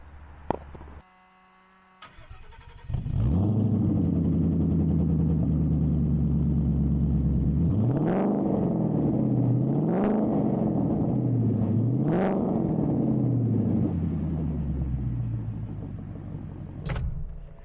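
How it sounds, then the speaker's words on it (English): A 2014 Ford Mustang GT V8 cranks and catches, settles into a deep, loud idle, then gets three sharp revs that rise and fall before idling again, recorded close to the exhaust with no talk. "start the car up, and we'll hear those sweet V8 noises"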